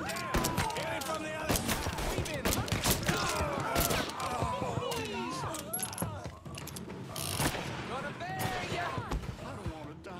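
Gunfire in the Mafia 3 video game crackles as rapid sharp shots and clattering impacts mixed with game sounds, under near-constant voices talking.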